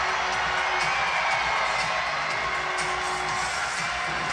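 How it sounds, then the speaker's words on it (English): Arena crowd at an indoor soccer match between the Baltimore Blast and Harrisburg Heat roaring after a goal, a dense, sustained wall of cheering and whoops at steady loudness, heard from within the stands. "Crowd goes crazy as Vanzella scores his second goal of the season"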